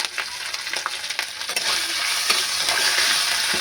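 Ginger and cumin sizzle in hot oil in a pan for vegetarian khichuri, a close, bright crackle with a few scraping stirs early on, settling into a steady fry with no talk.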